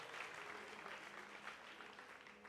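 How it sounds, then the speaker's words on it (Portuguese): In a church service, the congregation applauds in a continuous wash of many hands clapping, faint and steady throughout. "Você pode aplaudir a Jesus"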